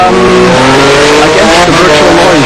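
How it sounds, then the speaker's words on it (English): Race cars in the GTR racing video game scream past with loud, continuous engine whine, the pitch rising and falling through gear changes, with hints of tire squeal. "I am in with that engine sound I could not hear you."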